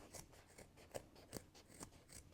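Scissors snipping as they trim back a fabric seam on a sewing project, several quiet crisp cuts in an uneven rhythm, close and faint with no talking.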